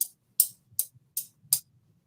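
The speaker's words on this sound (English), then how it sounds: "demonstrate the sound of the castanets" Five sharp wooden clicks from homemade castanets made with tape, evenly spaced at a steady moderate pace, each a bright short snap close up with a faint low rumble beneath.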